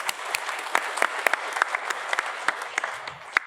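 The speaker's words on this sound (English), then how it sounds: "Give him a round of applause." A conference audience at a logistics forum claps steadily, a dense rattle of many hands with a few sharp, louder claps standing out near the listener, held at an even level with no talk.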